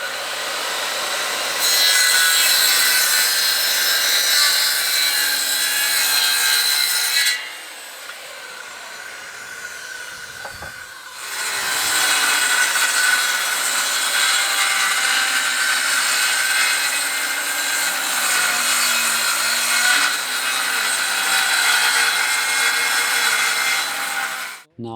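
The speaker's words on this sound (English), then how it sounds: "Today we are going to cut the wood." A power saw cutting wood at a building site in Costa Rica, heard as a loud, continuous high whine that runs for several seconds, drops off briefly, then resumes for a second long cut.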